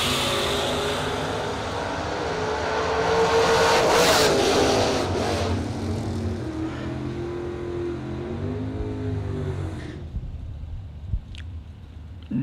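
Two Camaro drag race cars launch at a bracket racing event with a loud, roaring engine blast that swells, holds and then drops away sharply, leaving a faint distant rumble.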